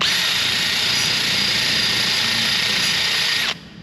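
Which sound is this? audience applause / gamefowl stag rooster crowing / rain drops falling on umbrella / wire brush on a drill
wire brush on a drill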